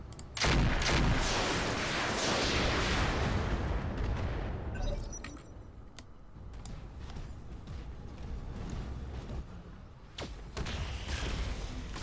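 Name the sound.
gunfire in the video game Roguepoint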